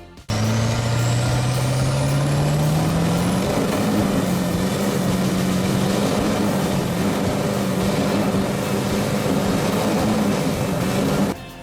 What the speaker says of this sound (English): This custom build undergoes a serious stress test, with the Duramax engine delivering immense torque through 54-inch boggers.